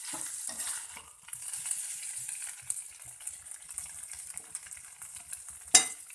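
Noodles sizzle and scrape in a hot pan as they're stir-fried into mie goreng, a soft continuous frying hiss with occasional clinks of a utensil.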